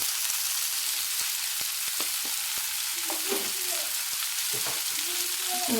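Spiced non-veg dish frying in a pan with salt and masala powder, a steady crackling sizzle with occasional stirring clinks and scrapes, close and continuous.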